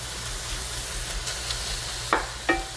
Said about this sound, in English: kind of sauteing now with the oil